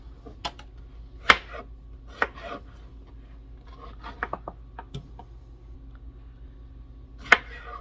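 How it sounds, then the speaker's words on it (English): Strawberries are cut into bite-sized pieces by a knife on a board, with a few sharp, separate chops and soft taps spread irregularly over a quiet kitchen background, close by and without talk. "I'm just going to get all of these cut really quick and get them into my pan."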